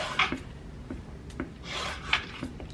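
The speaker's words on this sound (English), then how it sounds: "I have my carrot and I'm just gonna start shaving it" A carrot being shaved with a peeler: a few quick raspy scraping strokes up close, repeated in a loose rhythm with no talk.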